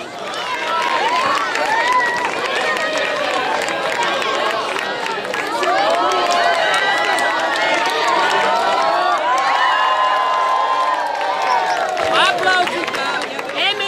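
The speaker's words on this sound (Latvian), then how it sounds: "Aplausi!" A large crowd cheers, shouts and chatters continuously at an outdoor harvest festival at a Latvian open-air museum, with children's shrill voices rising above the loud, dense, close-up din.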